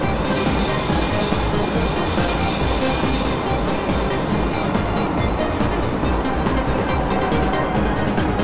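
A metro train on the Habourvale Line in the OpenBVE simulator runs steadily, with a loud continuous rumble of wheels on rail and faint high squealing throughout.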